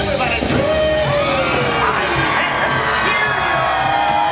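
Crowd screaming, yelling and cheering at the Disneyland Halloween Screams fireworks spectacular, 2012, a loud, dense roar of many voices sustained throughout with rising whoops over a constant wash of noise.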